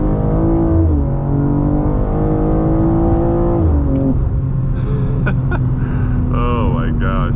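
A BMW G87 M2 with a loud exhaust revs hard from inside the cabin, its engine note climbing through repeated gear pulls at close range and constant full volume, with a voice speaking over it toward the end.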